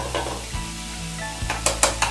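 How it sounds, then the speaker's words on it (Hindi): Mawa roasts in a greased kadhai with a soft, steady sizzle while a spoon stirs and scrapes it, giving a few distinct metallic knocks and scrapes close up, with no talking. "और इसी में अब ये जो मावा है इसको भी सेक लेंगे हम"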